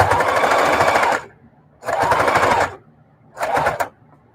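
A sewing machine stitching in the ditch on a quilt, running in three close rapid bursts separated by short pauses, the last one shortest.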